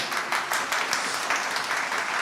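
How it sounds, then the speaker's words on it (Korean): Brief burst of audience applause at a Korean radio show event, a steady patter of many hands clapping at moderate distance, with no talk over it. "큰 박수 부탁드리겠습니다."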